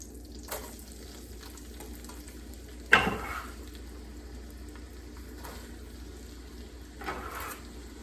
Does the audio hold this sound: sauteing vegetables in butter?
yes